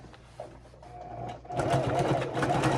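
A sewing machine stitches a skirt waistband, running quietly at first and then louder and steadier in a continuous whirring hum, close up with no talking.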